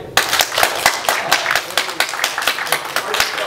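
Audience members clap to cast a vote during a live comparison, producing a loud, uneven run of distinct claps with a rhythmic, pulsing quality and some crowd murmur.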